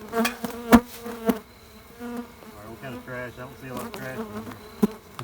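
Honey bees from a large hive behind a house chimney buzz in scattered bursts, individual insects droning close by in waves, with a few sharp knocks and no talk.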